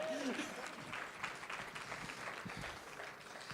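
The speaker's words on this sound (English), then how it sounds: "Another round of applause for that one." Faint applause from a crowd, a dense patter of clapping continuing steadily throughout.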